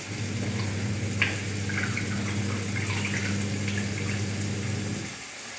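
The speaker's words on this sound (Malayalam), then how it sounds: "ഇനി ഞാൻ കഴുകി കാണിക്കാവേ" Steady running water from a tap pours continuously, fairly loud and close, as a face is rinsed off after a facial massage, with faint splashing and small clicks over the flow.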